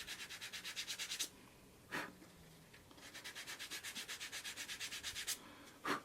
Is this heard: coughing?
no